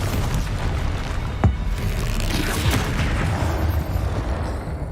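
Bombarda explosion spell in the Hogwarts Legacy video game, a deep boom with a sharp crack early on and a second muffled blast later, set in a continuous low rumbling combat din.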